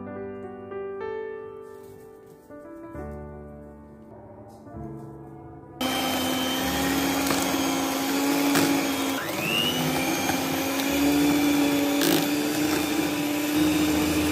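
Electric beater whirring steadily as ground powdered sugar is beaten into cake batter, a loud continuous motor drone close by that starts abruptly partway through after quieter mixing, with no speech.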